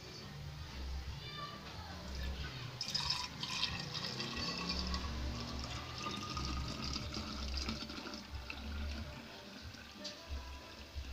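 Milk on its way to becoming homemade yogurt is poured into a glass container, producing a continuous close liquid splashing and gurgling that rises and falls while a person talks.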